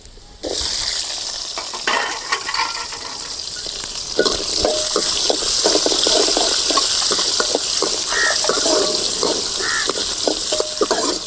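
Small onions and cumin sautéing in a pan for a Tamil-style murungai keerai poriyal, a steady close broadband sizzle with scraping stir strokes throughout, no voices.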